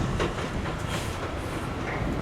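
A truck drives out of the Intuit Dome construction site in Inglewood, a steady broadband engine and rolling rumble heard at moderate distance.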